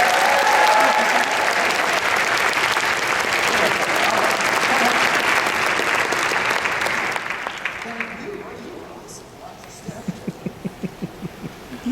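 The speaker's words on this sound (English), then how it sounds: "Ladies and gentlemen, give Warren another round of applause." Loud, dense audience applause fills a concert hall after an orchestra performance of the New World Symphony, fading around seven seconds into scattered claps with voices talking underneath.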